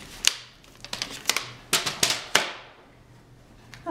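A paper cutter slices diagonally across card in a series of sharp, crisp clicks and snips, irregular and close, each ending in a short fading rustle, with no talking.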